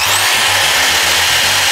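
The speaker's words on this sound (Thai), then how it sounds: "เรามาดูนะครับว่าสว่าน DC ทำงานได้ประมาณไหนนะครับ" A Dongcheng DZJ0413 corded impact drill runs loud and close with a buzzing motor whine and a rough rattling low end, then stops abruptly.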